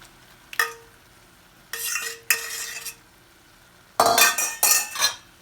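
Spicy shrimp cooked until pink are stirred through sauce in a pan, with a few distinct bursts of scraping and utensil clinks against the pan, separated by short quiet gaps, close and fairly loud.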